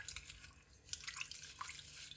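Tomatoes being washed in salted water, soft dripping and splashing with small liquid plinks, quiet and close, no voices.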